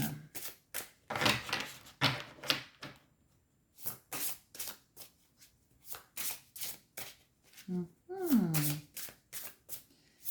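Tarot cards shuffled by hand in a series of quick, crisp riffling bursts with short pauses between them, heard close and fairly quiet.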